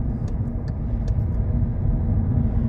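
Inside a Volkswagen Jetta 1.4 TSI driving along a quiet street, a steady low road and engine rumble fills the cabin, with a few faint high ticks and clicks over the hum.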